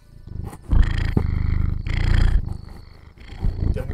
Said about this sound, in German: das Schnurren sollte jetzt eigentlich auf Band sein